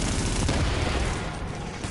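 A loud, continuous roar of gunfire from The Division, shots fired at a sniper, booming and dense for about two seconds with no clear gaps between reports.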